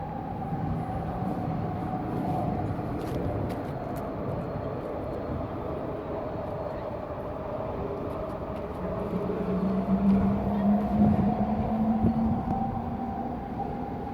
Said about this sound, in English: why those trains seem louder some days than others